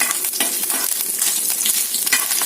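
Coconut pieces fry and get stirred in a pan, giving a steady, close sizzle broken by scraping stirring strokes throughout.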